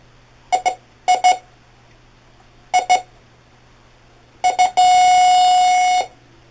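A repaired Bounty Hunter Tracker IV metal detector sounds loud electronic double beeps in pairs, spaced apart, then ends on a sustained steady tone of about a second.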